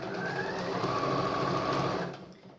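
A sewing machine runs steadily as it stitches a straight seam across the fabric of a phone case. The close, even mechanical whir lasts a couple of seconds, then winds down.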